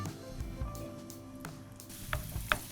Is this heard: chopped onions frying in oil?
yes